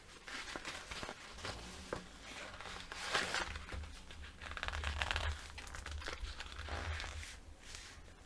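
Paper pieces for a heritage mini album being folded and creased by hand, giving soft crinkling and rustling with scattered handling taps, fairly close and unhurried, with no talk.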